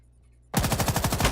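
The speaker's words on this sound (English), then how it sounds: "Rabbit pre-fires the Mira, and the Mira returns fire" Half a second of near silence gives way to a loud, rapid automatic burst of gunfire in a Rainbow Six Siege tournament match, the shots packed tightly together until the end.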